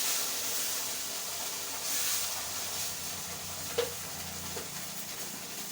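Meatballs browning in a frying pan with a soft, steady sizzle and hiss, quiet and continuous, with one brief clink partway through.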